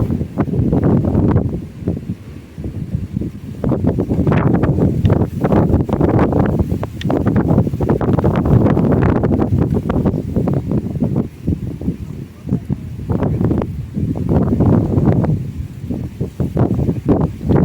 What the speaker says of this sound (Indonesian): angin sangat besar sekali